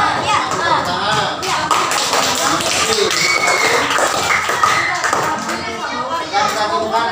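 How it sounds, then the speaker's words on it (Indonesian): Schoolchildren in a sixth-grade maths classroom clap their hands together in a dense, steady burst of applause lasting several seconds, loud and close, with scattered taps and thumps mixed in. "Tepuk tangan."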